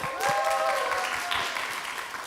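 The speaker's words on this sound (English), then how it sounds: "Round of applause for Sanjung." Applause from an audience at a Notion community gathering in Seoul, greeting the community manager; a short burst of clapping with some tonal voices or cheering over it, moderately loud and fading slightly.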